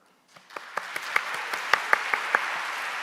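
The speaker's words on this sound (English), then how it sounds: "let's give a warm welcome and big round of applause to our keynote speakers." Audience applause at the ISMIR 2025 keynote welcoming the keynote speakers: a dense wash of clapping that swells in after a quiet start, with a few sharper individual claps standing out, moderately loud and steady.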